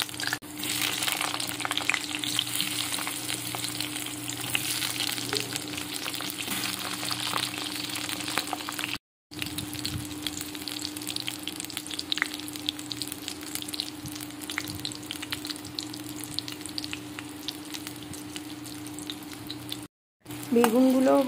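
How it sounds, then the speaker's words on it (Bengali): Eggplant slices frying in hot oil in a pan, a steady, dense sizzle and crackle that runs continuously and close, broken only by two brief silent gaps, with no voices over it. "তেলটা গরম করে নিয়ে আমি এখানে বেগুনগুলোকে আগে ভেজে নেবো ভালো করে"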